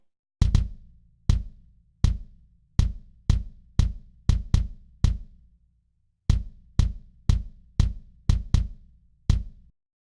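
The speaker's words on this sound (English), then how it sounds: "here's the sound of just the kick drums as just the kick drum samples." Unprocessed kick drum samples from Superior Drummer, played dry and alone: about eighteen loud, close, punchy thumps with short decays in an uneven groove, with a brief pause midway.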